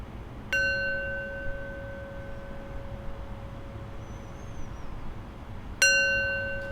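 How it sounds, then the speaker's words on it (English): A bell struck twice to close a practice session, each ring sharp and clear with a long, pure sustained tone that slowly decays, the strikes several seconds apart over a quiet room. "I'll close practice with 3 rings of the bell."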